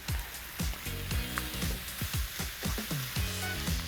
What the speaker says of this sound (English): I'm sautéing my onions, garlic, and shrimp with the cherry tomatoes, probably for about a good 3 to 4 minutes